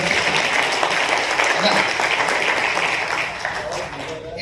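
Audience at a Unani Day celebration at Golden Leaf Resort in Dhule applauding, dense sustained clapping that fades slightly toward the end, with a voice speaking over it.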